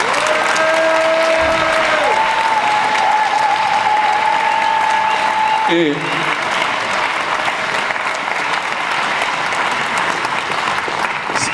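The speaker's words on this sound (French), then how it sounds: "que vous les applaudissiez." Dense, loud applause from a crowd at a united-left municipal election rally in Brest fills the whole stretch, with a brief spoken word near the start.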